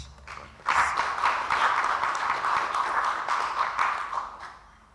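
An audience at a church regional learning opening session breaks into steady applause, a soft wash of many hands clapping for about four seconds before tapering off.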